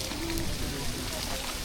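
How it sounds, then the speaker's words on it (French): Hail falling during a storm in Madagascar, a dense, steady patter of pellets striking surfaces nearby, continuous and fairly loud, with faint voices mixed in. "Voilà, Il grêle."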